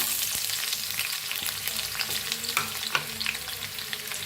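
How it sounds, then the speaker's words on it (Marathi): Onion tossed into a hot pan with garlic and green chili, frying with a loud, continuous sizzle and occasional stirring clinks close by. "आता ह्याच्यात टाकूया कांदा"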